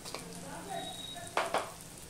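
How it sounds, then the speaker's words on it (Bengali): Spice paste with a spoonful of sugar for a vegetarian arum lobe curry fries in a pan, a steady soft sizzle with two brief scraping stirs near the end. No one talks. "চিনিটা দিয়েও আমি 1/2 মিনিটের মতন কষিয়ে নেব।"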